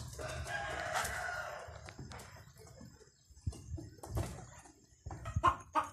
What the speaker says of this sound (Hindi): शोर जो है वो देसी मुर्गी कर रही है